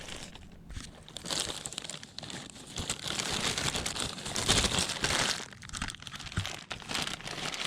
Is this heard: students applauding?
no